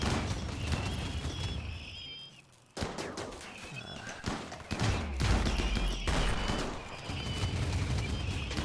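Colonists trade gunfire in the colony-sim video game RimWorld: repeated sharp shots and short bursts crack out irregularly, with brief lulls and a few small chirps between volleys.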